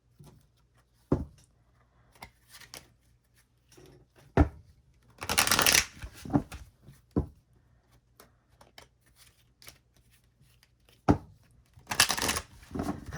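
Playing cards are shuffled close up, with scattered snaps and taps and two longer riffling bursts, no voices.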